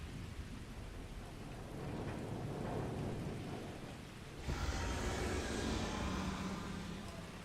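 Thunder rumbles over steady rain in the Starfield video game, a continuous low roar that swells into a louder crash of hiss and rumble midway, with no voices.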